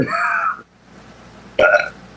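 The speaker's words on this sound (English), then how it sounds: "I'm trying not to burp." A person lets out two loud, close burps: a long one at the start, then after a short quiet gap a second, shorter belch.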